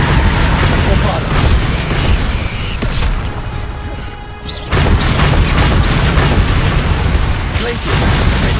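Booming spell blasts from the Bombarda charm in Hogwarts Legacy on PS5, several loud explosive bursts amid a dense layer of combat noise and effects, with a brief quieter lull in the middle before the din resumes.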